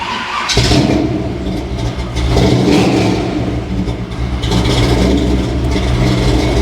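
A car engine with a reported death rattle cranks briefly, catches and fires up, then revs loudly in several swelling pushes, close and with no one talking.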